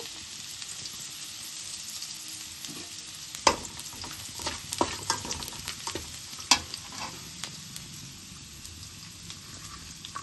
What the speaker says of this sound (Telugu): ఆయిల్ అయితే వేడయింది వెల్లుల్లిపాయలు వేసుకుందాం